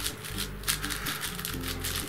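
Rapid clicking and clacking of a YJ MGC 6x6x6 magnetic speed cube being turned by hand, quick irregular bursts of plastic turns up close with no talking.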